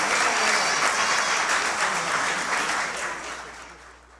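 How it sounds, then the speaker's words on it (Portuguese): A municipal legislative chamber audience applauds an environmental award recipient, a thick sustained round of clapping that holds steady and then slowly fades out. "Receba os aplausos do Poder Legislativo Municipal."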